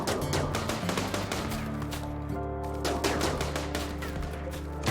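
Rapid, overlapping bursts of gunfire from a RimWorld battle crackle steadily and loudly, layered over sustained tonal background music, with no speech.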